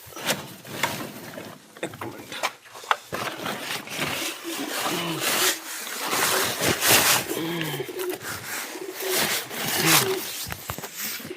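Pigeons coo in low, repeated throaty calls while grain is scattered for them from a tray, with rustling and clattering handling noises and someone talking close by.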